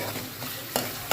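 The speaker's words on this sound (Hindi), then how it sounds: "तड़का लगा रही हूँ।" Tempering spices for dal tadka sizzle in hot oil in a home kitchen, a close, steady frying hiss broken by two quick stirring scrapes in the pan.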